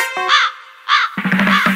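A crow gives two loud, hoarse caws, well separated, before music comes in beneath the crowing, in a music video.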